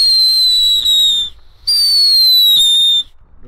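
Whistling fireworks rockets, a Comet high-speed rocket and a Funke Luftheuler, let out two loud, piercing whistles, each just over a second long with a slightly falling pitch, separated by a short gap.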